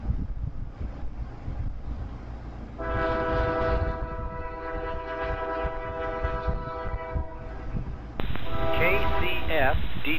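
A northbound Department of Defense freight train passes at Decatur, Arkansas, sounding a long, loud multi-tone horn over rumbling wheels and wind noise, with a radio voice cutting in near the end.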